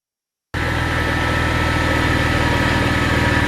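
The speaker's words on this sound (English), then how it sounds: "Let the engine warm for a bit and then we wanna go check the oil level." A BMW 335i with the N54 engine idles right after an oil change, starting abruptly out of silence and then holding a steady, close mechanical hum with a fine rhythmic pulse.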